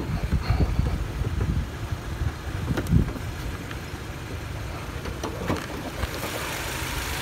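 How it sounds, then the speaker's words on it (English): A 2004 Pontiac Sunfire with a 2.2 Ecotec engine idles smoothly in a low, steady hum, heard up close with light wind noise and a few faint clicks and knocks. "Runs good. Man, it runs real good. Slick running little engine."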